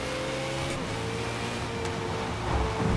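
A race car engine powering up during a three-lap race in Forza, loud and continuous with a dense roar, tonal engine harmonics and a slight rise in level near the end.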